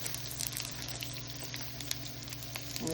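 Chopped onion sizzling in a hot pan over medium heat for chicken and rice, giving a steady, close frying hiss with light crackle and patter throughout and no talking.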